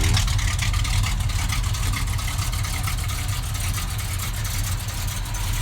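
A 1969 Plymouth Roadrunner muscle car engine running with a deep, loping low rumble, loud and steady at close range for several seconds, no talking.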